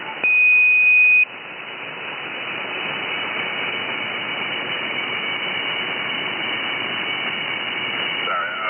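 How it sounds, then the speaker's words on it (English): A short, steady CB radio beep tone sounds at the start inside a moving vehicle, then gives way to a continuous hiss and engine rumble while driving downhill. "Just trying to return the beep as I'm driving down the hill."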